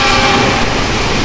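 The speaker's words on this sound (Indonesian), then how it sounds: "kereta apa ya, baru aja lewat" A train rolls through Lempuyangan station in Yogyakarta, a loud continuous rumble and roar close by that fills the whole moment without a break.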